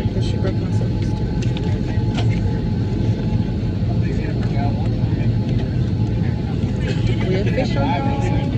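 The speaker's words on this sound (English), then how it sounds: "We are officially on the plane." Steady, loud low engine drone inside an airplane cabin, a constant rumble filling the whole stretch while people chatter over it.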